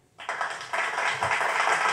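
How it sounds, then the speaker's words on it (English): Canned applause sound effect on the game show Deal or No Deal: a short burst of clapping starts abruptly after a brief silence and swells into a continuous patter with no talking. "he went to the clapping sound effect again"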